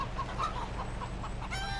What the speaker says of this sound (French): Vous avez également les poules.